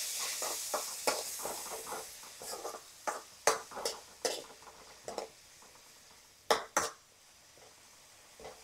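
A spoon stirring chopped tomatoes in a pan, with scattered scraping clacks and soft sizzling, a handful of sharper knocks against the metal, quiet and close.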